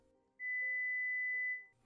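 A 2000 Hz audiometric hearing-test tone sounds as a clear, steady pure whistle-like note lasting just over a second, then fades away, with no talking over it.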